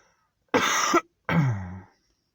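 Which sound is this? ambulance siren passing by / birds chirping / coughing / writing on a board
coughing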